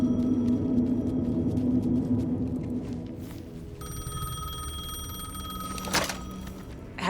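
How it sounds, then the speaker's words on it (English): A payphone rings in the video game Alan Wake II, a steady electronic ring that sounds continuously through the clip over a low ambient drone, with a brief sharp knock near the end. "The payphone was ringing."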